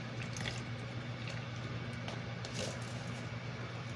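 Water trickles steadily into a small seed-starting cup of soil, a soft continuous pour with faint dripping over a low background hum.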